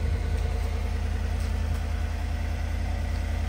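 A 2016 Chevrolet Silverado pickup idles through its stock single exhaust, giving a steady, low, even rumble that stays quiet and unchanging throughout.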